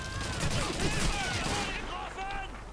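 Rapid gunfire and bursts in Call of Duty 2, a World War II shooter with British army troops, crackling steadily over battle noise for about three seconds while a voice talks underneath.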